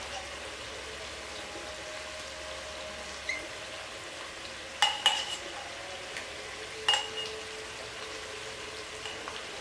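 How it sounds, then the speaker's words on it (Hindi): A potato and chickpea paste fries with masala in a pan for Lahori chikar cholay, giving a soft continuous sizzle with a few brief clicks and scrapes from stirring. "आलू और चने का पेस्ट मैंने बना लिया, तो अब मैं इसमें शामिल कर दूँगी और इसकी अच्छी सी भुनाई कर लूँगी"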